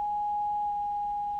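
A clean, steady sine tone at about one kilohertz from an FM OGRE through-zero FM oscillator module, held constant and unwavering at a moderate level for its whole length.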